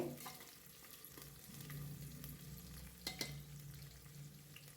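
Chopped onion sautés in a hot pan for a home-style Marathi spiced rice dish, a steady low sizzle with occasional stirring scrapes and clinks, close and moderately quiet, with no talking.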